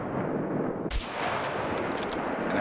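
A gunshot in the survival shooter SCUM cracks out once, loud and sharp, over a steady wash of in-game ambience, followed by a few fainter clicks and shots.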